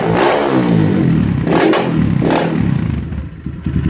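An SSR 189 dirt bike engine bogging while still cold from a jetting problem, a loud close throaty drone that swells and sags unevenly, with a couple of rough rising surges.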